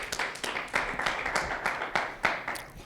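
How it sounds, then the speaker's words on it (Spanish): Church congregation applauding during a worship service, a steady stretch of clapping with sharp irregular claps, moderately loud and close, with no one talking over it. "¿Alguien le puede dar un aplauso a Dios?"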